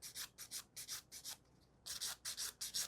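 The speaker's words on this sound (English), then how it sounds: "you could maybe hear the difference when I'm filing" A file rubbing back and forth across a gel nail extension to remove the product, giving quick rasping strokes in short rhythmic bursts with a brief pause, close up and quiet.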